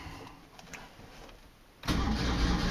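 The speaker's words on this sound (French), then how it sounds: "Démarreur." A Panhard Dyna Junior car's engine turns over on the starter and catches, the sound rising suddenly to a loud, steady engine noise after a quiet stretch.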